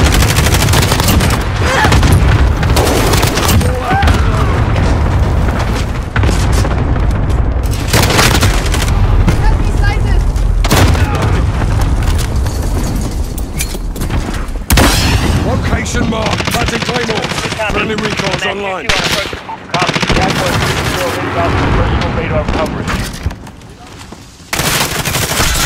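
A cluster strike in Call of Duty Modern Warfare, on the Scrapyard map during a Hardpoint match, sets off a barrage of loud, booming explosions mixed with heavy automatic gunfire that continues throughout, with some radio-style voices faintly under the din.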